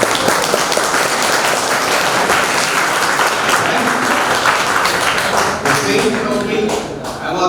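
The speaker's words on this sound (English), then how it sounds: "Claps." Loud, sustained applause from a crowd at a college celebration, with dense overlapping clapping filling the whole stretch and voices mixed underneath.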